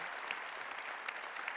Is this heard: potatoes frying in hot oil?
no